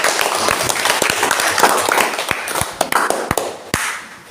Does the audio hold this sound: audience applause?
yes